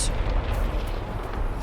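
A deep rumbling explosion echoes in the fantasy game Dragon Age Inquisition, a heavy low boom that rolls on without a sharp attack and stays steady through the short stretch.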